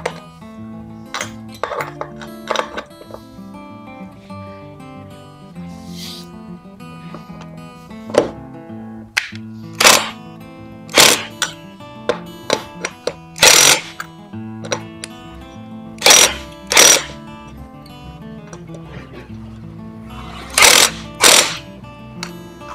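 Sharp metallic clicks and clanks come from tightening lug nuts on a golf cart wheel, irregular and spaced out over a low steady hum, with a few louder ratcheting bursts near the end.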